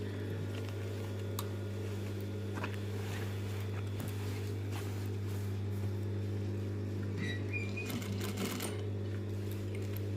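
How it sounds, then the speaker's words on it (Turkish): A sewing machine hums and stitches steadily at close range while sewing the corner of a table runner, a continuous mechanical drone with faint clicks over roughly ten seconds. "İğneyi batırıp dönerseniz Gamze'nin yaptığı gibi o köşede bir ileri geri dikiş yapıyoruz"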